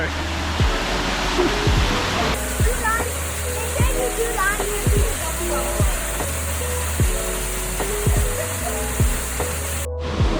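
A waterfall in El Yunque rainforest, Puerto Rico, pours as a constant loud rush of water, with people talking over it and a few brief knocks and higher calls scattered through.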